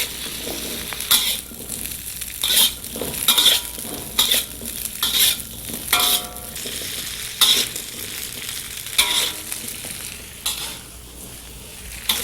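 Cauliflower florets and potato pieces stir-fried in a pan for a North Indian lunch, with steady sizzling broken by repeated sharp scrapes and clinks of a utensil against the pan.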